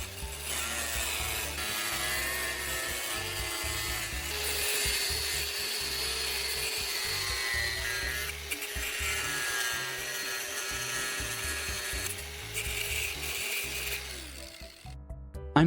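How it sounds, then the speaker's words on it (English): An angle grinder cuts a clear plastic sheet for a car taillight repair, a continuous harsh, loud grinding whine with rasping texture that holds steady for several seconds before stopping near the end. "I'm now taking my pre-marked clear plastic sheet and carefully using the angle grinder to precisely cut along the lines."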